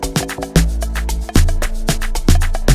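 Amapiano log drum programmed in Caustic 3: deep, booming bass hits in a syncopated groove with sharp percussive clicks between them, loud and upfront.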